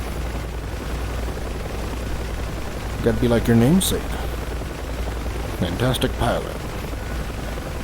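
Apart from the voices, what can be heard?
UH-1H Huey helicopter engine in video game DCS: World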